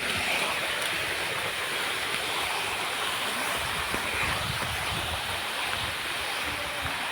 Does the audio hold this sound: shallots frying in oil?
no